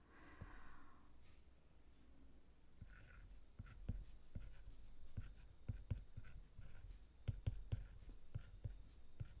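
A ballpoint pen tool writing in the GoodNotes note app on a tablet, heard as a series of soft, irregular taps and light scratches of the stylus on the screen, close up and alone with no talk.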